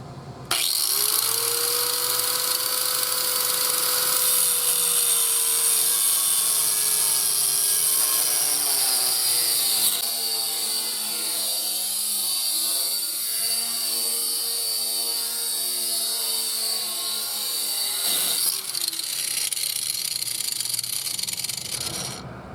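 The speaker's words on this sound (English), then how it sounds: "So he's going to try cutting it off with a grinder." An angle grinder cuts through an old bolt under a van, a loud, steady high whine that holds for around twenty seconds, shifts in pitch midway, and then stops abruptly.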